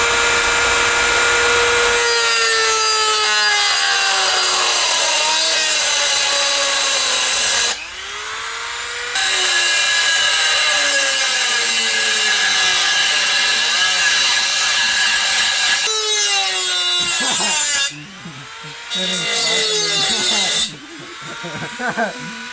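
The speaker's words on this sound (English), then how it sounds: "I think the Dremel might work a little bit better than the big angle grinder." A Dremel fitted with a metal cutting blade slices through car parts while a turbo kit goes onto a Subaru BRZ, a loud, close, high-pitched whine that keeps dropping in pitch as it bites, with short pauses between cuts.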